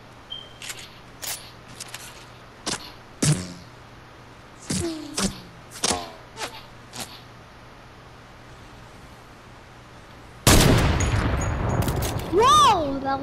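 Rifle shots in Fortnite ring out as a string of sharp, separate cracks with uneven gaps, followed by a louder burst of game noise and rising tones at the end.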